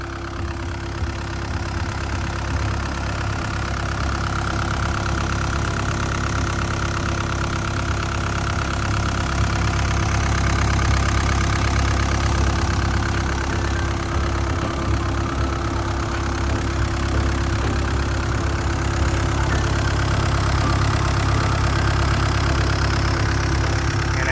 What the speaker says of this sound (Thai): ตัวนี้นะครับจะเป็นเครื่องยนต์ของฮีโน ่นะครับรหัสเครื่องเนี่ยเป็นตัว W04D นะครับ